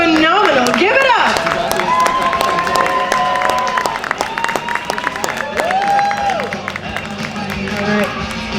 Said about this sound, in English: Got to keep those claps going.